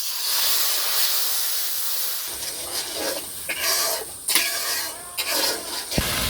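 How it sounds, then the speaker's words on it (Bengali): Spice paste sizzling in hot oil with bay leaves and garam masala, a steady close hiss that swells into bursts of crackling and spitting. "এবার মশলা বাটা দিয়ে দেবো।"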